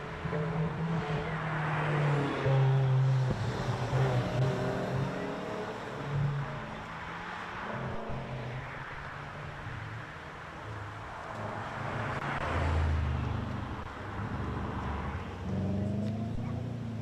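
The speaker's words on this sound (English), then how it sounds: "Go from a high pitch squeal from the flow to a low groan of the Audi." Audi rally car on a special stage in Wairoa, its engine giving a low, droning groan that rises and falls as it works, loud and close with a second surge later on, no talk over it.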